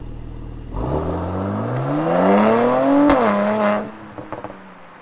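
Mercedes-AMG C43 with the quad-pipe AMG Performance exhaust revving once, rising quickly to a loud rasping peak, then dropping back with a few crackles as it settles to idle, close by.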